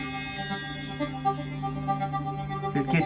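A sustained synthesizer tone rings through a Terra echo effect, producing resonant sweeps as its overtones shimmer and shift, with a brighter swell near the end; no voices.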